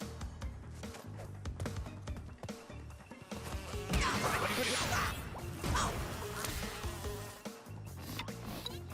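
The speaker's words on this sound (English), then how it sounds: "Come to me, bee." Buzzing bee sounds from Crash Bandicoot N. Sane Trilogy, mixed into busy game music and effects, with whooshing hits and a steady, fairly loud level throughout.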